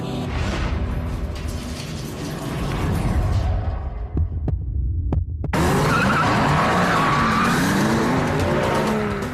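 Supercars' engines roar and whine as they race past round a track, tires skidding, each started with one gallon of fuel, with a brief near-silent dip midway before the loud engine noise surges back.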